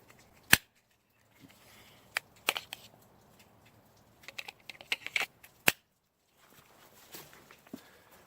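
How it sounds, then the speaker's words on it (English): The Hogue F02 paddle gives small sharp plastic clicks as it is pushed in and popped out, a few isolated snaps with softer handling noise between them, close and quiet. "When you push it in, you get this click."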